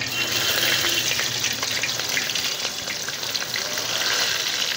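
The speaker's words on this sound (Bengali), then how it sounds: "এই প্রথমে দিয়ে দিলাম এই যে পেঁয়াজ, টমেটো, কাঁচা লঙ্কা যেসব আমরা কেটে রেখেছিলাম সেইগুলো সব দিয়ে দিই" Chopped onions, tomatoes and green chilies frying in a pan, a loud, continuous close sizzle with bubbling crackle that holds steady for several seconds, with no voices.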